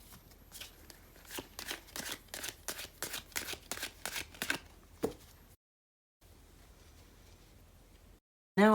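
Tarot cards, ten minor-arcana cups, shuffled by hand in a steady run of crisp riffling bursts for about five seconds, then quiet with only faint room hiss.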